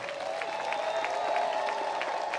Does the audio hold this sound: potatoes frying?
no